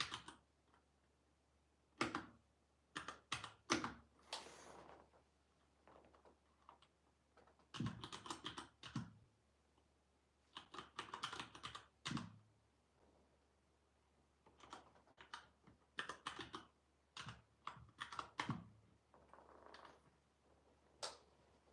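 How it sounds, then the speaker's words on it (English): Keys clatter on a computer keyboard as someone types a command, in short irregular bursts of quick taps separated by pauses, close and quiet. "alright, I'll type that in"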